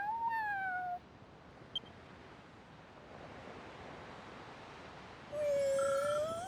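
A cat in the video game Dragon Quest Treasures gives two clear meows, one at the start and one at the end, over a soft ocean-and-wind ambience.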